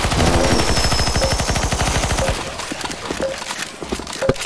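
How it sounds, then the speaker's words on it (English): Rapid automatic gunfire in the game CS:GO zombie escape, a loud dense burst of repeated shots for about two seconds, then scattered single shots and game effects. "Keep shooting, keep shooting, keep shooting."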